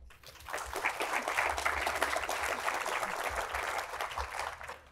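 An audience at a debate on whether facts exist claps for the panel, a sustained rush of many hands that swells in quickly, holds steady, then fades near the end.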